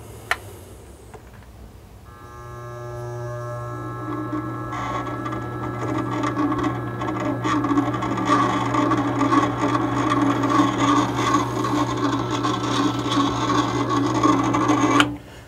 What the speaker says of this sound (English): So I'm just going to cut off this little piece at the top and show you how that works out.